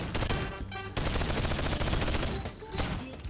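Rapid automatic gunfire in the VR shooter BONELAB with an aimbot mod, loud and close, firing in sustained bursts with a brief pause partway through.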